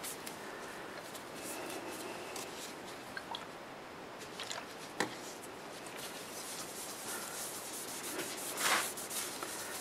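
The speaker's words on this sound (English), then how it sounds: "I'm just rubbing it in with a soft cloth, and then I'll let that dry." A soft cloth rubs finish into turned black locust wood, making quiet, continuous swishing and rubbing strokes, close up and faint.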